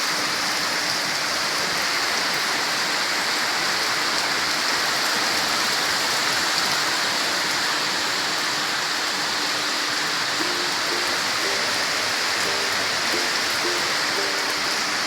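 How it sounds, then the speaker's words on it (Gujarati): Heavy monsoon rain pours steadily outside a house, a dense, loud, unbroken hiss with no breaks, heard from indoors while the downpour continues. "કેટલો બધો વરસાદ ચાલુ છે"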